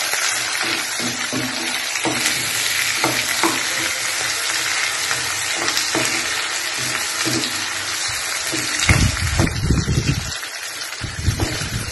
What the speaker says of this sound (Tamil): இறால் வந்து இப்படி வதக்கி சாப்பிட்டா நல்லா இருக்கும்.